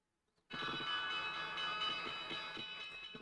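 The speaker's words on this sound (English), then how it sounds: "there's the bell" The stock market opening bell rings out abruptly and keeps sounding as a sustained, bright metallic clang, loud and steady for several seconds.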